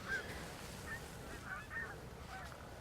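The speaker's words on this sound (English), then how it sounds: "there's some geese over there" Geese honk in the distance, several scattered calls over a steady outdoor background noise, with no talking.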